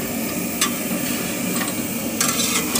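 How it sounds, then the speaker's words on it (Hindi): Chicken cooks in turmeric in a pot for chicken biryani on a rooftop, giving a steady, even sizzle with a few light stirring clinks over it. "हल्दी के अंदर जो है अभी चिकन पक रहा है"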